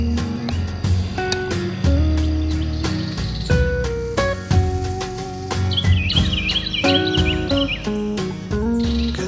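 Two birds call back and forth outdoors on a cool, foggy morning, their clear repeated chirps and whistles ringing out near and fairly loud against quiet surroundings.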